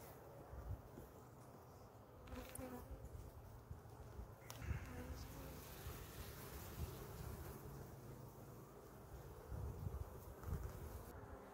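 Honey bees hum steadily around an open hive in Pennsylvania during an inspection with drone brood present, a dense low drone broken by brief rustles and a few close passes.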